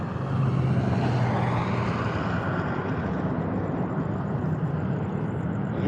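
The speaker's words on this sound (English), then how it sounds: "I hear jet engines." Jet aircraft engines near the Las Vegas airport roar as a broad, steady wash of noise with a low rumble underneath, loud and continuous throughout, heard from a distance with no talk.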